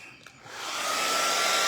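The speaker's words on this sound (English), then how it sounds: "But let me get my dryer out and dry it." A hair dryer switches on to dry craft paint on a multimedia flag background, rising from a brief quiet start into a loud, steady close-up whir.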